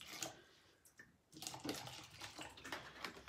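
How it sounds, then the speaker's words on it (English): Water runs from a tap in a quiet space, a soft hissing stream that starts, pauses briefly, then resumes with light splashing and clinks. "now I am going to get a little bit of water"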